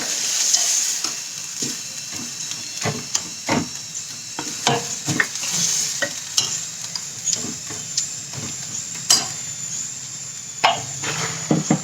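Puris fry in a pan of hot oil with a soft continuous sizzle, broken by frequent clacks and scrapes of a ladle or spatula against the pan.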